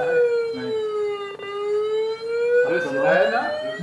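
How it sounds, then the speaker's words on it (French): A siren tone synthesized on an Apple II computer dips slowly then rises again, steady and buzzy, with a brief warbling flutter near the end; no voices. "Là, on a une vraie sirène."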